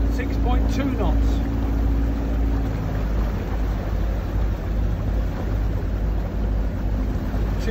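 An inboard boat engine with a Bruntons Autoprop propeller runs at 2000 RPM, a steady low drone with water wash, close and constant, and a voice briefly heard early on.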